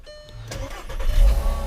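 A Volkswagen MK6 car engine starts up: a brief cranking burst gives way to a rising low rumble that settles into a steady idle, close and fairly loud.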